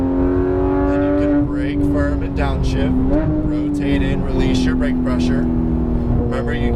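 A Porsche GT3 991 RS engine drones loudly and steadily on a racetrack, its pitch rising and shifting as the throttle is worked, with a voice coaching over the engine.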